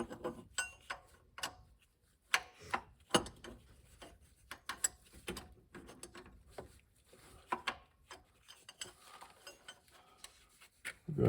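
A ratchet wrench tightens a fuel pressure regulator plug on a 6.7 Powerstroke diesel engine, giving bursts of rapid close clicking with short pauses between strokes, no voices.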